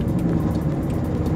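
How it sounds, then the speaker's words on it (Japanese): An electric Toyota AE86 with a manual gearbox plays a synthesized engine sound while driving, a steady, close low drone with a slightly pulsing texture and no talk over it. "音もなんかちゃんとエンジンの音がするし"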